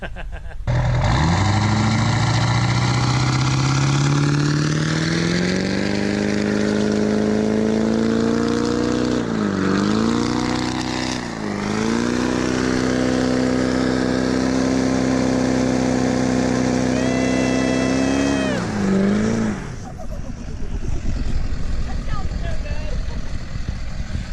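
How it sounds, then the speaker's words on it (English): Duramax diesel pickup truck doing a burnout, a loud sustained high-revving engine roar with tire noise, holding steady with a few dips in pitch before cutting off near the end, close by. "I did a burnout at a friend's house"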